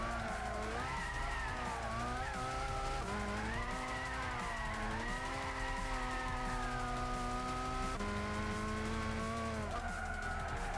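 In Gran Turismo 6 on PS3, a race car brakes hard and slides into the sand, its engine droning and tires squealing steadily and loudly with pitch swings throughout.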